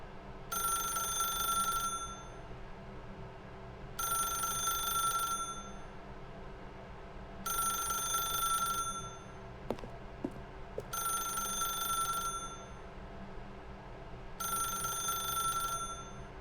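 An old-fashioned telephone rings in The Stanley Parable video game, five evenly spaced bursts of ringing with pauses between, over a low steady hum and a few faint clicks.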